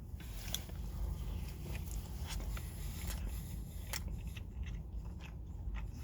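Close crunchy bites and chewing of a KFC dessert biscuit with icing and cinnamon sugar butter, a series of sharp crisp snaps over steady quiet mouth noise.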